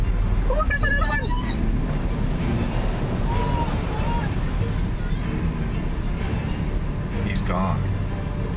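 Huge ocean waves of up to 40 feet crash onto rocks around a bridge, producing a loud, continuous roar with heavy wind noise on the microphone, while people talk and shout over it.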